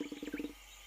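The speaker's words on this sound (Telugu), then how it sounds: "అది ఆ గుంట నక్క శబ్దం అనుకుంటున్నాను." Cartoon sneaky fox call from a Dora the Explorer episode: a quick run of five or six rhythmic, throaty yelping bursts, fairly close and clear, followed by near silence.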